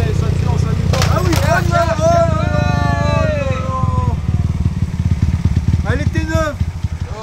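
A motorcycle engine idles with a low, steady rumble under close, continuous conversation between people.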